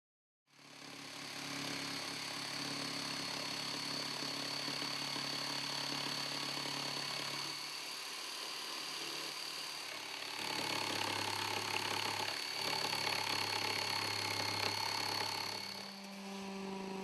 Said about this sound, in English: use a jigsaw or coping saw to cut the curved radius on the right and left side rail.